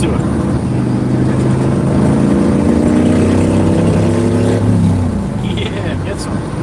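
A Harley Davidson Sportster motorcycle engine runs with a close, loud, steady rumble that rises slightly in pitch, then eases off toward the end.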